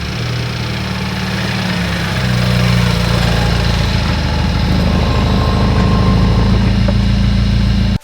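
A BMW F81 wagon with an N20 engine idles close by in a shop, a loud steady low engine drone that rises in revs and grows fuller partway through as it pulls in.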